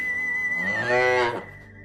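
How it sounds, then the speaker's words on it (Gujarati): A desi Gir cow, a humped Indian breed at a cow shelter, gives a single long, drawn-out moo, close and loud, with faint background noise and no talking. "એ આપણી દેશી ગાય છે સાહેબ."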